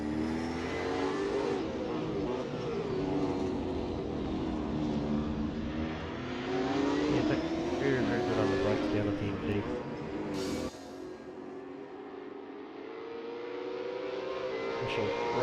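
V8 Supercars racing at Phillip Island, engine drone rising and falling as cars pass along the front straight, steady and fairly loud under continuous commentary talk, with a brief drop in level near the end.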